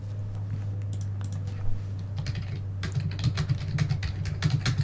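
Fast typing on a computer keyboard, crisp clustered key clicks that pick up in density partway through, over a steady low hum.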